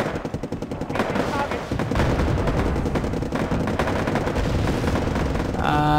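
Tanks in the strategy game Wargame AirLand Battle fire in a dense, sustained barrage of loud, rapid gunfire and booming cannon shots that keep overlapping to the end.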